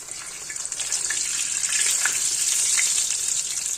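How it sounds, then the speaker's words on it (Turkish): Milk pişi dough frying in hot oil, a dense, steady hiss and crackle of bubbling fat, close and fairly loud throughout with a few sharper pops, no speech. "Yapalım yağ üstüne de gelsin. Kızgın yağ iyice kabarsın."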